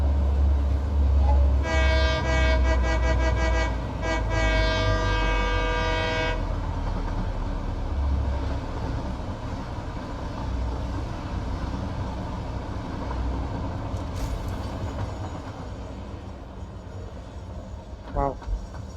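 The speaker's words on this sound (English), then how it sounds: "I'm just gonna take the train back because why not?" A train in a factory-building video game rumbles steadily along, with a loud horn blast early on and a faint rail whine later, under continuous engine noise.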